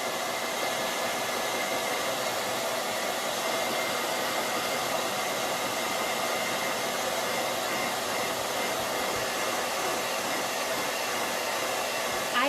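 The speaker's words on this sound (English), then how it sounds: "I'm going to get the hairdryer going." A hair dryer blows at a steady, loud, unbroken roar for the full length, close by and alone with no voices.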